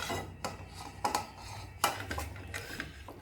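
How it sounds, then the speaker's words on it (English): Chopped vegetables for a mixed vegetable vinegar pickle are shifted into a bowl, giving a few sharp clinks and scrapes of utensils against dishware over a quiet background. "One by one, we'll move all the vegetables to a bowl"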